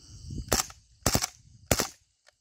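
A KWA Kriss Vector gas blowback airsoft gun fires three short, sharp bursts about half a second apart, each a quick double crack, loud and close with no talking.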